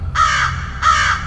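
A human voice imitating a crow gives two loud, harsh caws close by, with a short pause between them.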